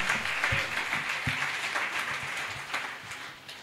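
A church congregation claps during a worship service, steady scattered applause with a few sharper hand claps standing out, moderately distant.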